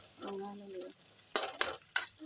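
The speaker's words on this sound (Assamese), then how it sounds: "ৰঙা হ'বলৈ অলপ তেলত ভাজি আছে" Onion and green chilli frying in oil for Maggi noodles, with a steady sizzle and a few sharp scrapes of stirring near the end, alongside a brief voice.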